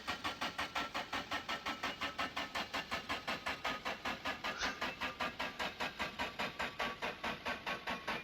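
In the video game My Winter Car, a car engine cranks over repeatedly with a steady, rapid rhythmic churning that never catches, quiet and continuous for several seconds with no voices.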